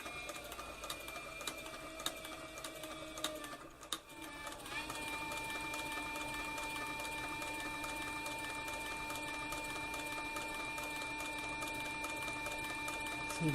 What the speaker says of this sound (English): See, my bobbin winder over here is winding the bobbin as I sew this flank strap right here.